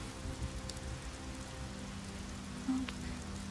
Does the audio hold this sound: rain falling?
yes